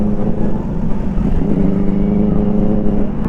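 A loud Benelli superbike engine revs in a city street, a deep, rough, continuous growl close up with no speech over it.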